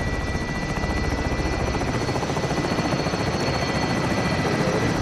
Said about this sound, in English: Oh, here's a helicopter.